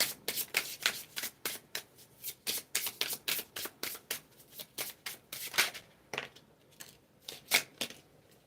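Herbal Astrology Oracle cards being shuffled by hand, a rapid run of crisp riffling flutters and soft slaps in an irregular rhythm, close and clear with no talking.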